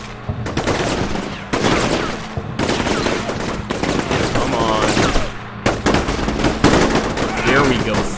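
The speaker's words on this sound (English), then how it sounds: "Let's see if our machine gunner can get them." Loud sustained machine gun fire in the Combat Mission: Shock Force war game, dense rattling bursts separated by brief gaps, with a voice talking over it.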